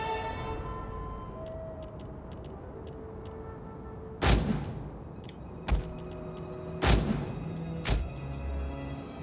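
Cannons fire during a Total War Rome 2 battle: four heavy booming blasts spaced a second or so apart, standing out sharply over a quiet, steady ambient battlefield bed.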